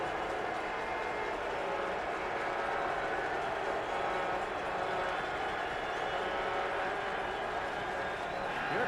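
A stadium crowd at a 2012 CFL game, Toronto Argonauts at Saskatchewan Roughriders, keeps up a steady, even roar throughout, with broadcast commentary faintly beneath it.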